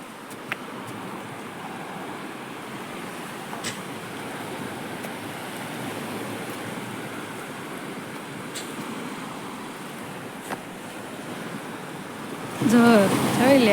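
Sea waves washing onto a Gujarat beach at Mastram Dhara, a steady broadband surf roar with a few brief sharp knocks, a louder surge near the end.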